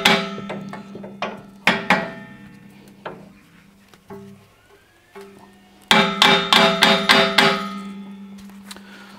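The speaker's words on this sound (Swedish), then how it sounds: "Då tar vi lite hammare och knackar in här bara." Sharp hammer knocks on metal while fitting a brake caliper on a Volvo 945, a few spaced blows, then a quick burst of about half a dozen rapid strikes, close and loud.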